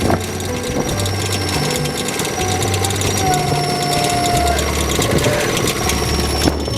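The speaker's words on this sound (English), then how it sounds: "You can see the clamp turning the log over." A sawmill clamp turns a cedar log over, giving steady mechanical ratcheting and grinding with low engine rumble underneath, continuous and fairly loud throughout.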